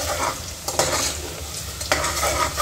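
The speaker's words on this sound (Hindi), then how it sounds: "इसे मैं अच्छे से ऑनियन के साथ फ्राई कर लूंगी।" Cumin frying with onions in a pan for a Bangalore Muslim-style mutton biryani, a steady close sizzle with stirring scrapes and two sharper utensil clatters, no talk.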